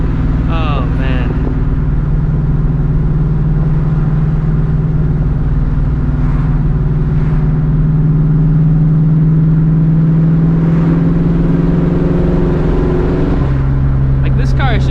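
A 2004 Ford Mustang GT engine rumbles loudly and steadily at cruising speed, deep and close from inside the car, with a slight change in pitch near the end and a voice talking over it.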